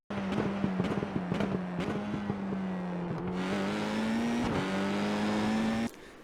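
Sim race car engine at full throttle around Sonoma Raceway in the iRacing game, a steady droning note climbing slowly through a brief shift before cutting off, close and loud.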